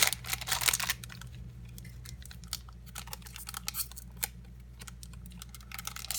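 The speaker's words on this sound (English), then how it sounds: "Let's open this first pack." Foil wrapper of a Battles of Legend: Hero's Revenge trading card pack torn and crinkled open by hand, close and crisp, with a busy burst at the start and scattered rustles and ticks afterward.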